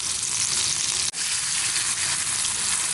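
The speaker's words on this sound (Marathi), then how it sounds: "लसूण टाकू आपण आपण घेतलेल्या मिरच्या टाकूया" Garlic and chilies fry in a hot pan for a Marathi chutney made from ridge gourd peels. Steady, close, loud sizzling runs throughout, with only a brief dip partway through.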